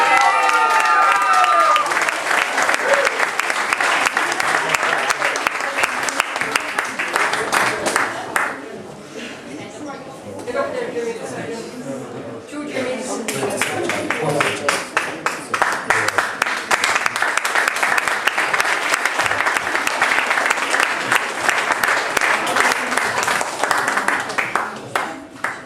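Crowd applause and cheering fill a party celebrating a world championship, loud and sustained, with a brief dip in the middle before swelling again, mixed with voices throughout.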